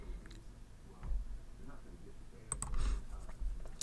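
Computer mouse clicks on a desk during a word-processing session, a few sharp, close, quiet clicks spaced apart against a faint room hum.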